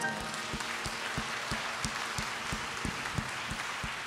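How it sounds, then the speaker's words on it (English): Scattered, fairly steady clapping from a live concert audience at a gospel music show, moderately near and not very loud, running evenly through the whole stretch with no voices on top. "yourselves a big round of applause."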